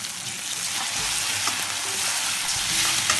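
Ginger garlic paste with salt frying in a pan, a steady, bright hiss of sizzling oil with faint stirring scrapes, close and continuous.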